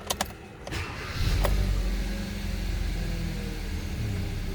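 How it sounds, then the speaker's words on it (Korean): A car's ignition key turns with a couple of quick clicks, then the starter cranks and the engine catches, settling into a steady, close idle rumble with no talking. "키를 돌리고 바로 IG원 상태에서 바로 시동 걸어 볼게요."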